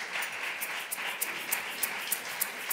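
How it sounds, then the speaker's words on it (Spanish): Audience applause at a presentation event, fairly faint and distant, with scattered individual claps standing out over a soft steady patter. "un aplauso muy fuerte para María Antúnez, por favor."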